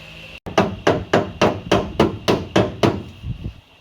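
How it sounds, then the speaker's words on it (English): Eight evenly spaced ball peen hammer blows ring sharply on car floor and wheel arch sheet metal of a Mk2 Ford Escort, close and loud, followed by a couple of softer taps. "I'm using a ball peen hammer here purely because of the shape of these things and the angle"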